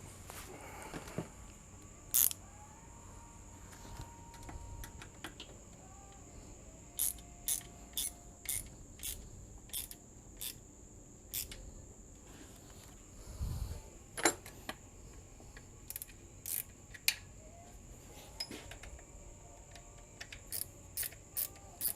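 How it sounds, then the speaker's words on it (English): A hand ratchet clicks in short bursts while tightening bolts during a timing belt replacement on a 2005 Dodge Magnum, with sharp, close clicks coming in irregular groups separated by quiet pauses. "I'm going to start tightening them up with a ratchet."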